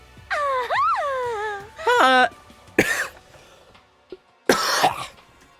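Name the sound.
cough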